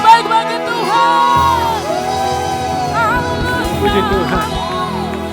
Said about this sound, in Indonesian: Mari sama-sama sekali lagi beri tepuk tangan yang terbaik bagi Tuhan